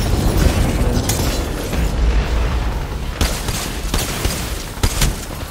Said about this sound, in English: Headshot him with my Kraber!